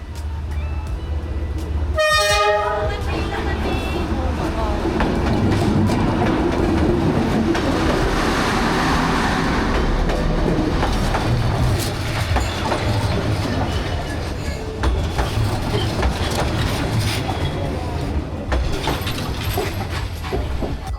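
A train rolls through a narrow cafe-lined street in Hanoi, Vietnam, opening with a sharp horn blast, then a long loud rumble and clatter of wagons passing close by that continues steadily throughout.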